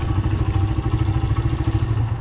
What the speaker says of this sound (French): Je coupe le moteur parce que sans quoi, c'est chiant.